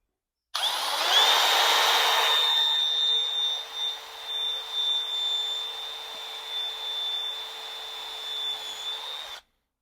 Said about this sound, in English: this is the best tool for scraping, the power drill